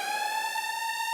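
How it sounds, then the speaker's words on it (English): A siren sound effect plays as a stock trade alert, a single loud, steady wailing tone that rises slightly in pitch and carries on alone throughout. "And by the way, we hit the sirens."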